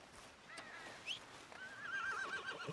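A horse neighs and whinnies in a video game, a wavering cry rising near the end over faint ambient noise and light clip-clop.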